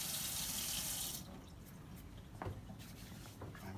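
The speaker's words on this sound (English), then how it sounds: "I'm gonna go ahead and wash my hands. Do that for 15 seconds." Running tap water splashing as hands are washed at a sink in a clinical setting, a loud steady rush that cuts off after about a second, followed by quiet drips and soft handling sounds.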